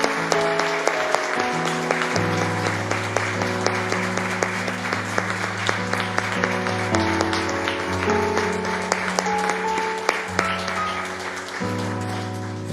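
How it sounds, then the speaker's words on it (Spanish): A church congregation claps along during a Spanish-language sermon, rhythmic clapping over loud keyboard and bass music playing sustained chords, steady throughout. "Le damos un aplauso al Señor"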